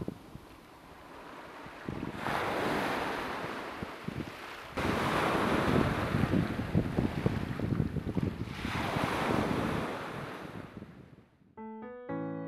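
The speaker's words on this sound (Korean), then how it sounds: "몽돌에 감기는 파도 소리가 때로 자장가가 되고 때로 오케스트라가 되는 곳." Waves surge in and wash back over round, smooth pebbles on a Gyeongsang-do coast in Korea, in slow, repeated swells, a rushing hiss rising and falling, ending with a brief musical tone.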